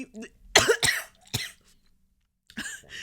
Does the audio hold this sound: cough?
yes